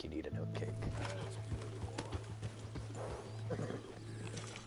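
Horse hooves clip-clop in Red Dead Redemption 2, a steady run of soft hoof beats under a constant low hum and a busy game soundscape.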